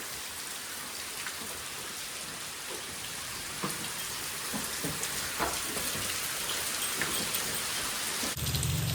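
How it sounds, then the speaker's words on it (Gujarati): Steady rain pours down on a farm where cows are kept, with a thunderstorm rumbling low beneath it; a continuous wash of drops with a few sharper hits, and the thunder builds toward the end. "ધીમો ધીમો મસ્ત વરસાદ વરસ્યો છે"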